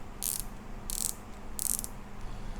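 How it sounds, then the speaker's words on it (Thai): Three quick bursts of bright mechanical clicking from the star drag of a 2024 Shimano Scorpion MD 200XG baitcasting reel, evenly spaced like a ratchet being turned, over a low background hum. "สตาร์แดก มีเสียงนะครับ เวลาปรับนะฮะ"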